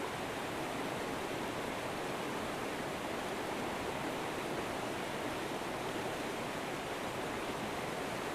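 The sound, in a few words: river current flowing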